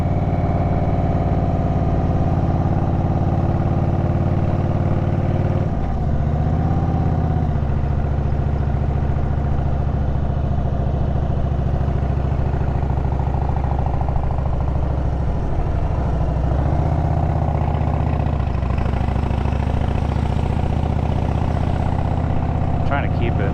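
A motorcycle engine runs at low revs on a countryside road in Alabama, a loud, continuous mid-range rumble with a few gentle rises and dips in pitch as it is held down.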